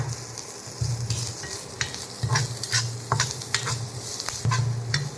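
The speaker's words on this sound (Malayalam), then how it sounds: "നമുക്ക് ഇളക്കി കൊടുക്കാം" Onions frying in a little coconut oil are stirred with a utensil, giving a steady close sizzle broken by repeated scraping strokes against the pan, with no talking.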